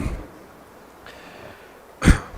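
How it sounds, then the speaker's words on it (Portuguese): A single short, sharp cough close to the mic near the end, with a faint breathy sound earlier in a quiet room. "e às vezes vou tossir um pouquinho"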